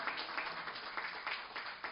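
A church congregation claps for the summer interns, a faint, steady patter of many hands filling the room, somewhat distant and thin, with no talking over it.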